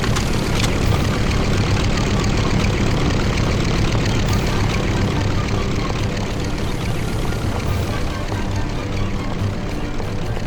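A propeller airplane in the video game Mafia drones steadily at close range, a loud continuous engine hum that holds for the whole stretch with faint voices underneath.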